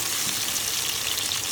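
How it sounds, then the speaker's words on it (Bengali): Vegetables sizzle steadily in hot oil with salt, turmeric and ginger-garlic, a dense, even frying hiss held close and unbroken for a moment. "আমি এক এক করে সব সবজিগুলোকে তেলে ভেজে নেব"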